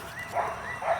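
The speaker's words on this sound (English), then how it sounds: "the dogs are going to start barking" Dogs bark twice, muffled and somewhat distant, with a pause between the two yaps over faint outdoor background noise.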